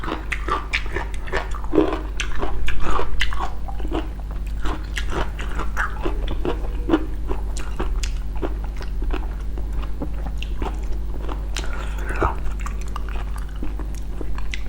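Loud, close-up eating of a spicy raw shrimp salad, with wet crunching, biting and smacking chewing sounds repeating steadily over a low background hum.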